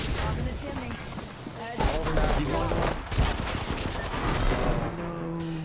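A Bangalore ultimate artillery strike lands during an Apex Legends ranked match: a rapid fusillade of loud, overlapping explosive blasts and crackling impacts, with game effects and player voices talking throughout.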